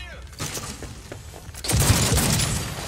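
Gunfire in Cyberpunk 2077: a dense, loud burst of shots rumbles in the second half, after softer scattered thumps, with a voice talking over the action.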